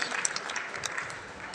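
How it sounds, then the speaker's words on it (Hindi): Audience applause at a kavi sammelan poetry gathering during the Aligarh Mahotsav exhibition, a steady broadband patter of hands with a few sharper claps, fairly faint and distant, with no voices over it. "एक बार तालियों से अनुमति दे दीजिए"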